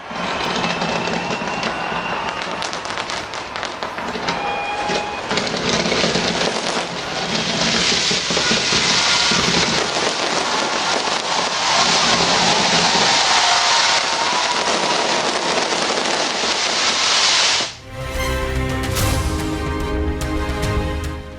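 New Year fireworks over Auckland: a loud, dense, unbroken wash of crackling and popping bursts that shifts in character near the end.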